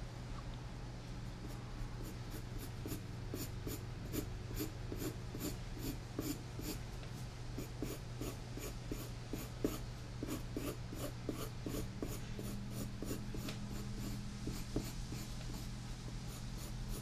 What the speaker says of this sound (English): You can go ahead and draw a little approximation of a heart there, just for reference.